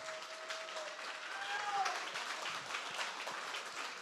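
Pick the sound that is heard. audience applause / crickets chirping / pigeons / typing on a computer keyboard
audience applause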